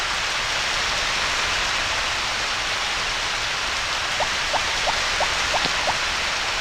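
Rain falls steadily in the PS1 farming game Harvest Moon: Back to Nature, a loud, constant hiss filling the scene, with a short series of faint, evenly spaced chirps or ticks appearing near the end.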